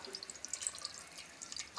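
Water poured over mutton pieces for a curry, heard as light, close splashing and dripping that patters irregularly throughout without any talk.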